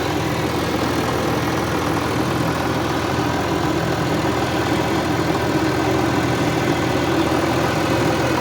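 A T-150 tractor fitted with a MAN D 0826 230 hp diesel engine idles steadily, a continuous deep, even rumble with constant loudness throughout and no voices.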